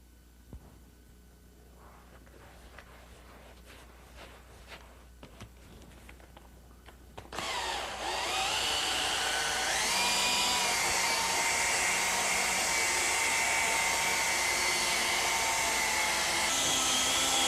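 A machine buffer with a foam pad and medium paste polishes a painted guitar finish, starting after quiet handling noises with a loud steady whirring drone that holds to the end.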